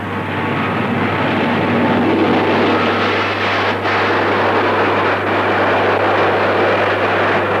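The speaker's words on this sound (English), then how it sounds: "Concorde takes Britain and the world into the supersonic age" A Concorde supersonic airliner, a loud, steady, broad jet roar that holds without pause, with a low steady hum underneath and no voices.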